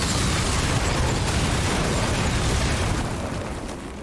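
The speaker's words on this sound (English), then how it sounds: "once you lay waste to the entire enemy force with Iron Man's shoulder rockets" Iron Man's shoulder rockets blasting enemies in Marvel's Midnight Suns, a dense, roaring wall of explosions lasting several seconds before fading slightly at the end.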